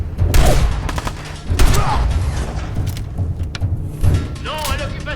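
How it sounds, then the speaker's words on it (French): Gunfire in the video game Fallout 4 comes as several bursts of shots and thuds scattered through the clip, mixed with game sounds and a voice talking over them. "il lui tire dessus."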